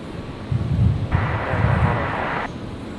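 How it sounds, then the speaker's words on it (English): A Royal Flying Doctor Service Beechcraft King Air taxis out for departure on runway 19 right at Brisbane airport, a faint, steady turboprop hum with a brighter whine rising for a moment, heard outdoors against wind. "Beach King Air heading on out to 19 right for departure out to Emerald."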